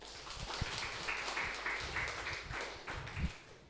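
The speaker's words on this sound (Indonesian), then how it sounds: "Tepuk tangan dulu dong" Scattered audience clapping in a school room, fairly faint and uneven, with a few louder individual claps standing out near the end.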